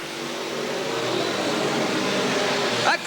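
Race cars at Willamette Speedway roar past side by side in a dense, continuous engine drone. The engines build slightly toward the end.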